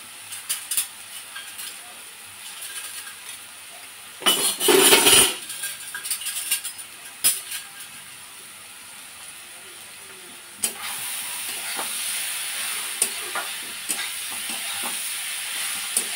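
Sweet, soft papaya is stirred and fried in a pan, a faint sizzle under occasional clinks of a utensil, with a louder burst of scraping clatter partway through and a brighter hiss later.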